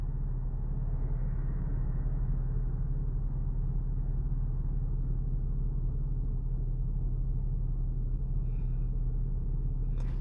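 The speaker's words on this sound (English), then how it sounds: "you can literally hear the trucks and the cars and stuff go by" Trucks and cars on Route 1 pass in a steady, low, distant rumble that goes on without a break and with no voices.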